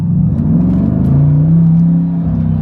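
A red Liberty Walk Corvette accelerates hard on a closed road, its engine note rising in a loud, steady rumbling drone that climbs in pitch and holds through the run.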